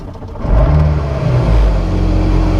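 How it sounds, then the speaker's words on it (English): A McLaren Senna engine fires up inside the car, a loud low rumble rising sharply after a brief quiet start and then holding a steady, heavy idle. "when you fire up that engine, your entire body and the entire car shakes violently."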